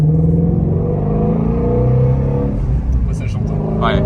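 A track-day car engine revs hard and close, a loud sustained growl with rising and falling pitch, while a person talks over it.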